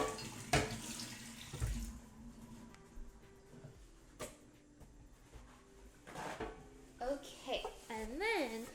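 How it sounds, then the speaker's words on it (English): Water runs from a kitchen sink tap while something is rinsed under it during pumpkin bread baking, a fairly faint steady splash with clinks of dishes and a voice speaking near the end. "I'm gonna rinse it."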